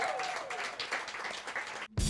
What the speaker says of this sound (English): Clap it up if you guys had a good time tonight